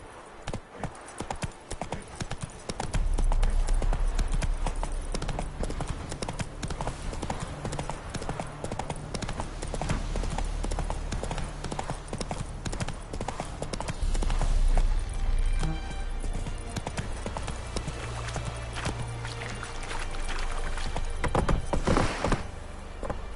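Roach, the horse in The Witcher 3, gallops with rapid, driving hoofbeats that carry on almost without a break, loud and close, with a brief snort or whinny along the way.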